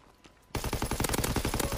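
Rapid automatic gunfire from a first-person shooter match, a burst of loud close shots in quick rhythm starting abruptly after a quiet moment and continuing steadily.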